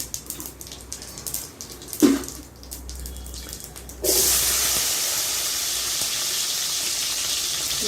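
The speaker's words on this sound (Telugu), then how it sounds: "ఉల్లిపాయ ముక్కలు వేసానండి." Onion pieces dropped into a hot tempering for jackfruit seed curry, setting off a sudden loud, steady hiss of frying that follows quieter kitchen clatter and a brief clack.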